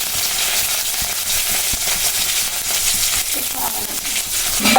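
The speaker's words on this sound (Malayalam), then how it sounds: "കടുക് പൊട്ടി വരട്ടെ ഉള്ളി ഇട്ട് കൊടുത്തിട്ടുണ്ട് ഉണക്കമുളകും കറിവേപ്പില്" Mustard seeds, onion, dried chili and curry leaves fry in hot oil with a loud, continuous sizzle, scattered crackles and stirring scrapes, rising slightly toward the end.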